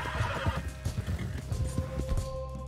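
A horse whinnies in Red Dead Redemption 2, its voice rising and falling over the steady clip-clop of hooves and a low background rumble, close and moderately loud throughout.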